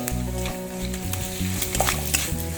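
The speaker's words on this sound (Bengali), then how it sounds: "ভালো করে সমস্ত কিছু নেড়ে নিচ্ছি।" Chicken liver and gizzard sizzle in a pan as spices are stirred in, a loud, close, continuous frying hiss broken by quick scraping strokes of the spoon, with no talk.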